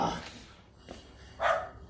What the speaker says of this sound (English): That dog does not shut up.